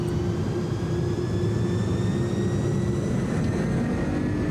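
Twin jet engines of an iniBuilds A300 airliner in Microsoft Flight Simulator holding at takeoff thrust, a loud, steady, broadband roar with a low rumble and faint rising whine tones, continuous throughout, no speech.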